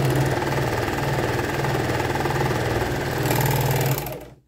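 Sewing machine stitching the side and bottom of a pocket, a close, steady motor hum with rapid knocking needle strokes, rising slightly near the end before stopping abruptly.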